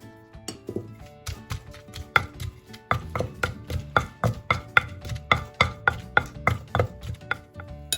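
Small homegrown leafy vegetables are pounded in a mortar for a Thai pea soup with mussels, a steady run of close, sharp thuds that settles into an even rhythm after a few scattered opening strikes.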